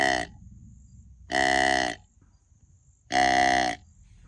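A buck call from a deer game caller sounds three times, each a drawn-out, nasal, moaning bleat, loud and close, with short pauses between them.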